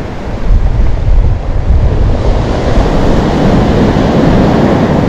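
Stormy Black Sea waves crash on the shore at Lazarevskoye, a loud continuous roar of surf with wind buffeting the microphone, no voices.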